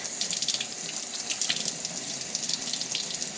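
Tap water runs steadily into a sink while a makeup blending sponge is rinsed under it, a close, even hiss of flowing water with no talking.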